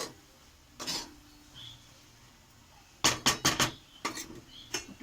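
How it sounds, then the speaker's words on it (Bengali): A lid goes onto a frying pan of fried greens, with one light clink, a pause, then a quick burst of several rattling metallic clatters up close in a quiet kitchen. "দিয়ে নেড়ে চেড়ে একটু ঢেকে দেবো"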